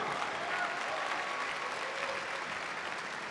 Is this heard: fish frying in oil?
no